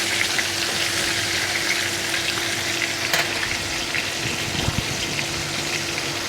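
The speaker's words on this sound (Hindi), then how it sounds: "चिकन हमारा फ्राई हो रहा है" Chicken pieces dipped in flour and egg fry in hot oil for a zinger burger, a dense, even sizzle and bubbling that runs steadily throughout at close range.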